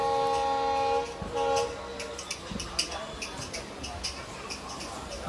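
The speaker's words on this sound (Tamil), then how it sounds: "இந்த பக்கம் ஒரு ட்ரெயின் போயிட்டுருக்கு" A train passes on the adjacent track at a station on the Tirunelveli–Sengottai line, a sustained horn-like tone at first, then rumbling and clattering wagons under a faint ambient murmur.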